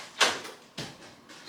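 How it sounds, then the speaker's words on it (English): A hotel room sliding door slides and bumps in a few quick, soft thuds and rattles, close and fairly quiet. "sliding door to the other room."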